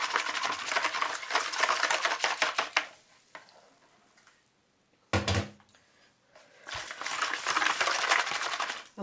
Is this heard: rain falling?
no